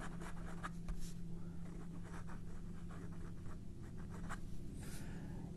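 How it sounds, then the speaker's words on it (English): A Pilot Custom Heritage 92 fountain pen, partly low on ink, held upside down and writing on paper, giving a steady, rough, scratchy nib sound with short strokes, close and fairly quiet. "Let's try some reverse upside down writing."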